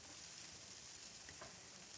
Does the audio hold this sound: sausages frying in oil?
yes